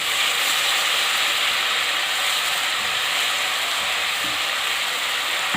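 Loud, continuous sizzling of ginger garlic paste frying in a hot pan, a dense crackling hiss with occasional scraping as it is stirred.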